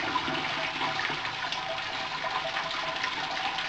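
Sparge water for a homebrewed corn ale pours at a slowish, steady pace, a continuous bright splashing rush held evenly throughout, fairly loud and close, with no talking.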